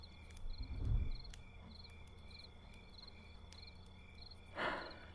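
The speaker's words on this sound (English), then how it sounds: "listening to the crickets chirp is pretty relaxing" Crickets chirping in grass, a steady repeating trill of regular pulses heard alone at moderate distance, with a couple of soft low thumps.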